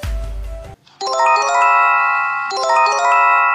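A loud Japanese TV earthquake early warning chime plays twice, bright overlapping tones ringing out in a descending pattern after a brief burst of noise.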